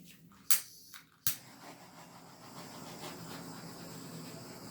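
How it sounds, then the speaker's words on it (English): Torch flame playing over an acrylic paint pour, with two sharp bursts of ignition hiss followed by a steady, soft roaring hiss. No talking. "Let me torch it one more time."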